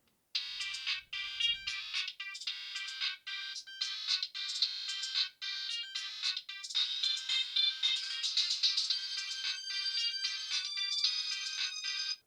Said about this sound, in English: Let's try out ringtones.